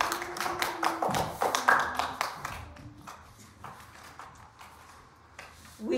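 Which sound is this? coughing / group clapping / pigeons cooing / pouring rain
group clapping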